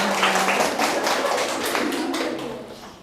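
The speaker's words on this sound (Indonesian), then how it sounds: "Oke, tepuk tangan." Clapping in a classroom during an open class session, a steady run of claps from a small group that fades toward the end, with no talking over it.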